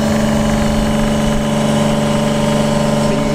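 A Rainman watermaker runs aboard a sailing boat before being shut down, a loud, steady motor-and-pump drone with a constant tonal hum and slight vibration throughout.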